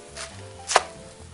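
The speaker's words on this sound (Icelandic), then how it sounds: "ætla ég að saxa niður grænmetið og ég ætla að byrja bara hérna á hvítkálinu" A knife chops white cabbage on a board in a home kitchen, giving a couple of close, crisp cuts, one sharp strike standing out, with no talk.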